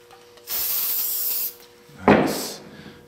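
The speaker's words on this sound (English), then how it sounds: "I'm just going in with some silicone spray just to help the two metals come together in a little easier fashion." Silicone spray hisses from an aerosol can onto the metal tube cage of an Axial Wraith RC crawler, one steady burst of about a second, then a shorter, louder, closer spritz after a pause.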